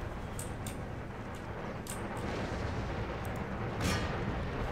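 Artillery battery firing in the Empire: Total War video game, with a few distant muffled booms over a steady dense battlefield roar for a few seconds.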